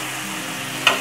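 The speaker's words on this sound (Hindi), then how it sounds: "अब इसे हम चलाएंगे" Potatoes with added salt are stirred in a frying pan, a steady hissing sizzle with one short scrape near the end, close and fairly loud.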